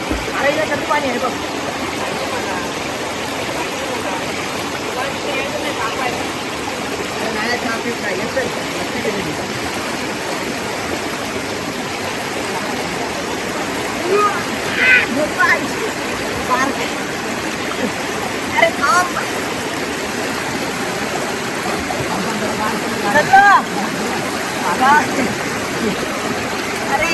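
Outdoor stream water flowing steadily as a continuous rushing wash, with occasional faint splashes or knocks and distant voices talking.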